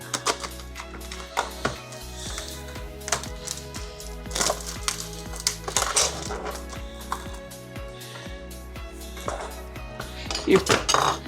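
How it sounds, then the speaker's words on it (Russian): A knife cuts pork belly into small cubes on a board, making repeated close chopping knocks in an uneven rhythm, with a little clatter of utensils around them. "Сейчас мы это порежем на мелкие кубики и поставим жариться."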